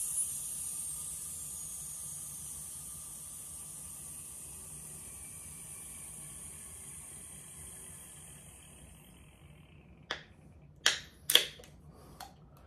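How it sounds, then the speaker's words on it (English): A can of Pepsi Nitro cracks open: after a stretch of faint steady hiss, several sharp close pops and snaps of the tab and fizzing release come in quick succession near the end. "So I'm going to share with Pepsi Nitro. Ready to hear that satisfying opening?"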